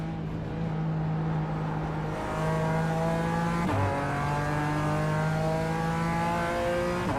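A BMW race car engine in the iRacing sim racing game drones at steady high revs, then pitch drops sharply in a downshift before climbing again, engine note close and continuous with no talk.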